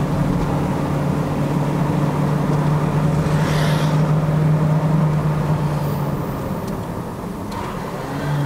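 Peugeot 508 1.6-litre turbo engine climbing to about 6200 rpm before its six-speed Aisin automatic upshifts. A steady, loud in-cabin engine drone holds for several seconds, then falls in pitch and level as the gear changes.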